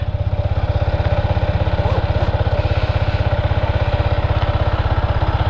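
A 2023 Yamaha XSR 155 motorcycle idles nearby with a steady, rapid putter from its small single-cylinder engine, even and continuous throughout with no talk over it.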